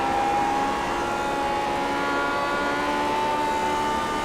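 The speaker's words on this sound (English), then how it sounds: "Mick's super late on the brakes, you can hear the tires squealing" Tires squeal under hard, late braking on a historic race car at Monza in iRacing's Grand Prix Legends. A sustained, steady high-pitched whine rides over a loud, continuous engine roar for the whole stretch, with no talking.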